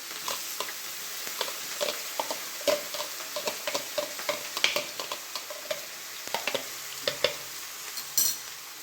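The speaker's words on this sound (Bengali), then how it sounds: "পেঁয়াজ ছেড়ে দিলাম তেলে।" Onions sizzling in hot oil, a steady frying hiss broken by repeated sharp clicks and scrapes of a spoon stirring the pan, close and fairly loud with no talking.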